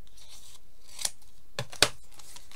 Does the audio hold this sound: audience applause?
no